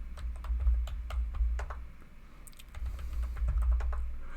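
A command is typed on a computer keyboard in a quick, irregular run of close, crisp key clicks with a brief pause midway, over a low background hum.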